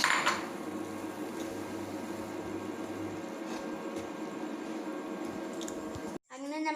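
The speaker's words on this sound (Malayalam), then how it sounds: "നമുക്ക് ഈ അമൃതപ്പൊടിയും കൂടെ ഇതിലേക്ക് ഇട്ട് കൊടുത്തിട്ട് നമുക്കിത് മിക്സ് ചെയ്യാം." A spoon scrapes and clinks in a vessel while ariyunda is mixed with Amrutham powder, a steady close stirring with occasional light knocks. It stops abruptly near the end, and a voice speaks afterward.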